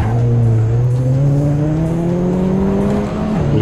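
Race car engine in Assetto Corsa, a loud, steady, buzzing drone with pitch rising gradually under acceleration, then a brief dip near the end as it shifts, with no voices.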